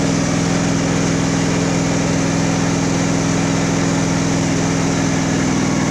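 A Craftsman riding mower's engine idles steadily with the choke off, a loud, even low hum and rumble that holds without change.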